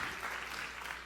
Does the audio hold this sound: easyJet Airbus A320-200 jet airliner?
no